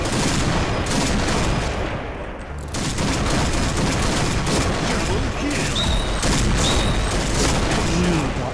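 Sniper rifle fire in the video game Point Blank rings out loud and close within dense, nearly continuous shooting, and a voice is heard faintly under the barrage.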